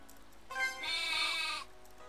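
A single sheep from the RPG Maker game Lullabia lets out one short, fairly faint bleat, heard alone against quiet background.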